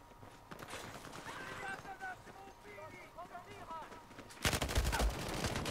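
Machine gun fire in the video game Battlefield 1 breaks out as a loud, dense rapid burst in the last second or so, after a stretch of people talking over quieter game sounds.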